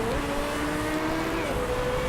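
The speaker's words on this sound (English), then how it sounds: "Yep, that is the Garuda racing car." The Garuda racing car in the racing game Motorsport Manager drives past with a sustained engine whine that shifts pitch slightly, close and loud, with no voices.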